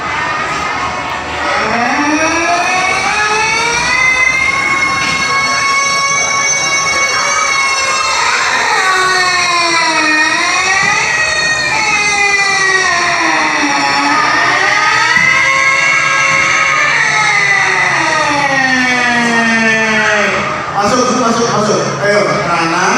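A school siren signalling the end of break wails loudly for about twenty seconds, its pitch rising and falling in long sweeps before it cuts off near the end.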